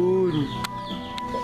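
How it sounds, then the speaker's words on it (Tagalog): Chickens at a family home give a few short clucks close by, spread across the moment, with a low voice speaking faintly underneath. "May mga manok pa."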